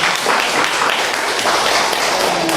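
An audience at a book talk applauds the author, a short burst of dense clapping from many hands, fairly loud and continuous.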